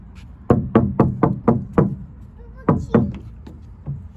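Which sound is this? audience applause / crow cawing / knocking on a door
knocking on a door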